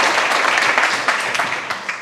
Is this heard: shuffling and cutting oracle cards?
no